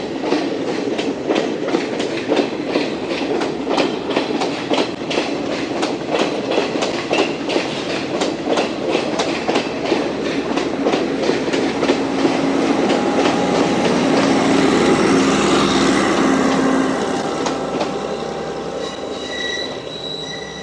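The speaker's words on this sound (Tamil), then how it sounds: "ட்ரெயின் போகுது." A train passes close by in Badulla, Sri Lanka, with loud rhythmic clickety-clack of wheels over rail joints and squealing metal, swelling then fading slightly near the end.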